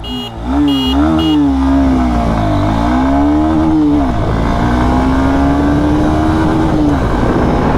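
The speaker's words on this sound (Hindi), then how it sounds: "तो चलिए इसकी भी एक्सेलरेशन टेस्ट करते हैं" A Bajaj Pulsar N250 motorcycle pulls hard from first gear in a full-throttle acceleration run, its engine note climbing through the revs, dipping briefly at a gear change, then rising again, loud and close throughout.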